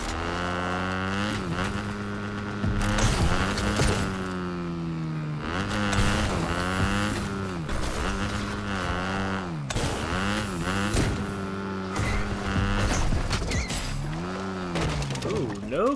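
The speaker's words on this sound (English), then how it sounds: "there's a motorbike here anyway" A Fortnite video game motorbike engine, loud and close, revving in repeated rising and falling whines with bursts of throttle, continuous for the whole stretch with no talk.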